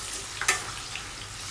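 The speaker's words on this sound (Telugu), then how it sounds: "నెక్స్ట్ ఇవన్నీ కూడా గోల్డ్ కలర్ వచ్చేంత వరకు ఫ్రై చేసుకోవాలండి." Cumin, garlic, onion and curry leaves fry in hot oil with a steady crackling sizzle, and one sharp stir or scrape cuts in briefly, heard close.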